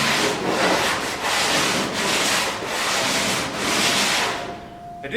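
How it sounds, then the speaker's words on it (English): A sanding block rubs back and forth along a wooden sheer clamp on a ZipKit boat, giving steady, close scraping strokes in a repeated rhythm, about five passes, with no talk. "Now I'm coming back with a sanding block and just give it a little touch up."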